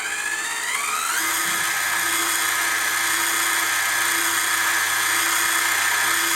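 A Warco WM180 lathe's variable-speed feed motor runs alone as a steady, loud high whine, its pitch shifting briefly at the start before holding even and constant.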